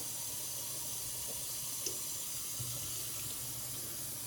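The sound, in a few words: water poured into a pot of lentils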